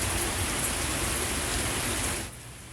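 Steady, loud rain pours down across San Diego County during a sudden stormy weather change, a dense continuous hiss that eases slightly near the end, with no voices.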